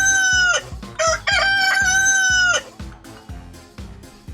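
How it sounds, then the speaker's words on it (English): A rooster crows one long, loud cock-a-doodle-doo up close, followed by a few softer clucking notes, with no voices. "It's the rooster! The rooster goes..."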